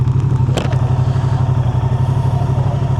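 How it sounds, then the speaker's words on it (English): A Moto Guzzi Mandello motorcycle, cold, clunks into first gear: a single dull thud over the steady low rumble of the idling engine, close by. "selecting first gear when it's cold is a bit clunky and agricultural"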